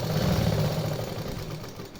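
Sewing machine stitching a blouse neck design, a steady mechanical whirring hum at close range that eases off slightly toward the end, no voices.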